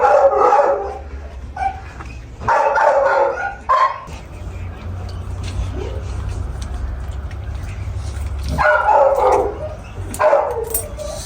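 A pitbull barks in loud close bursts, a few sharp yaps clustered early and again near the end, with quieter whimpering between and a person talking in the background.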